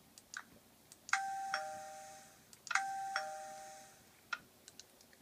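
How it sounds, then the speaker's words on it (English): Two doorbell chimes in a Minecraft furniture mod ring out in a row, each a bright two-tone ding-dong with a short decay, over quiet background clicks. "That's a doorbell."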